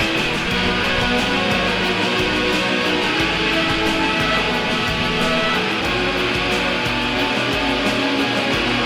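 Dense music with airy, heavily reverberated vocals washing through the mix, sounding distant and ethereal beneath a steady, full backing.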